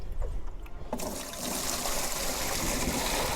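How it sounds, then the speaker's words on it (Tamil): Stored water is poured into a guppy fish tank, starting after a second of quieter handling and then becoming a steady, close, loud rushing gush that continues to the end. "இதுவே ஒரு மூணு நாளைக்கு முன்னாடி பிடிச்ச தண்ணி தான் இதை நான் ஊற்றிக்கிறேன்"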